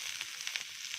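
Onions sizzle softly in a pan, a steady faint frying hiss with small crackling pops, heard alone.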